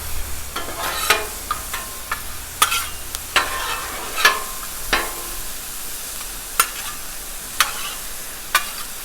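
Chicken and red pepper frying on a 36-inch Blackstone griddle over moderate heat, giving a continuous near sizzle with regular sharp clicks and scrapes of a spatula against the flat top.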